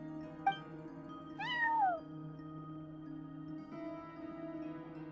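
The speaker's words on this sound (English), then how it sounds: "cat watching over the front desk. Excuse... meow?" A cat in the video game Genshin Impact gives one clear, drawn-out meow after a short sharp click, set against a steady low hum of background music, with no talk.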